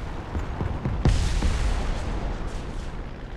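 Tank cannon firing in a World War II tank game, a single heavy boom with a sharp onset and rumbling decay, preceded by a few smaller distant thuds and followed by another faint report.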